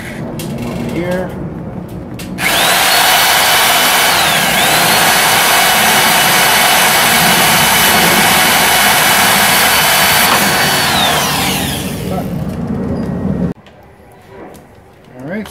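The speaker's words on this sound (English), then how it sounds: "So now I'm just going to take my drill." A power drill driving screws while LED daytime running lights are fitted to a 2004–2008 Pontiac Grand Prix, a loud, steady whirring drone lasting about ten seconds, with brief talk before and after.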